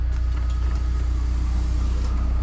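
A Mercedes bus pulls out onto its route, its engine giving a steady, heavy low rumble from inside the vehicle with no talking.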